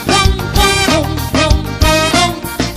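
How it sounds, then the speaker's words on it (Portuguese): A bright, punchy electric guitar riff repeats in quick rhythmic phrases over a steady beat with thumping bass, loud and upfront. "Esse é o som da guitarrinha."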